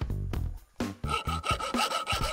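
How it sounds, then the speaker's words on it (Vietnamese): Rough, rhythmic sawing strokes rasp through a plastic soap box, several quick back-and-forth passes close to the listener with no talking. "Đầu tiên, mình sẽ cưa hộp xà phòng."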